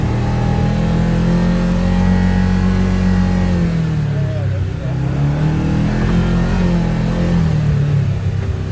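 A Kawasaki Teryx KRX 1000 side-by-side engine drones steadily while driving at speed over rough off-road terrain, loud and close throughout, with pitch rising and falling slightly as the throttle changes.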